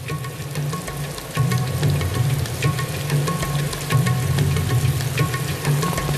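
Heavy monsoon rain pouring steadily, a dense continuous hiss of falling water with a low rumbling undertone and scattered louder drops, close and loud throughout.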